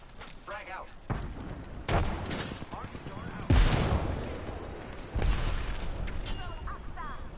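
Gunfire in the Apex Legends video game, scattered loud shots and bursts at irregular intervals, some sharp and close, heard under ongoing voice chat.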